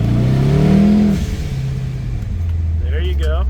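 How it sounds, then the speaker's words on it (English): A 1969 Chevelle restomod with a 6.7L twin-turbo LS V8 revs hard up close, the engine note climbing and then dropping away, with talking heard near the end. "Yep, I heard a little psh noise."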